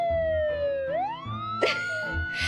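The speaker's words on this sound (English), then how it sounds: "Get into the police car!" A police car siren from The Great Ace Attorney Chronicles wails, sliding down and then sweeping back up in a clear, steady tone. A short noisy burst cuts in near the end.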